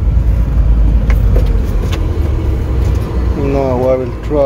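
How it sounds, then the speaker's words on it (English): Ventilation in a Ford Transit with a broken servo blows cool air in a steady, broad rushing hiss that fills the cabin, with a voice briefly audible near the end. "Okay, now it is blowing cool air, only ventilation."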